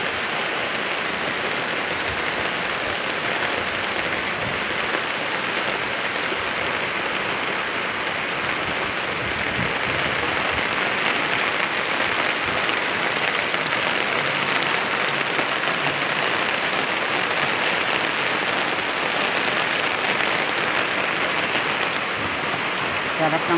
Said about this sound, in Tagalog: Pero ang lakas na ng ulan dito sa amin,